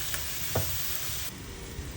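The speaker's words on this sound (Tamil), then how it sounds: "நம்ம நல்லா வதக்குறோம்" Continuous sizzling of herbs sautéing in a hot pan for mutton biryani, steady and close, with a faint clink near the start.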